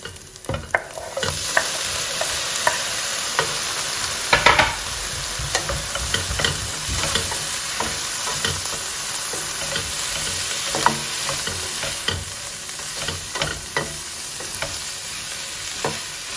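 Tomatoes fry in a pan with grated ginger and garlic, a steady close sizzle broken by the scraping knocks of a spoon stirring the mixture throughout.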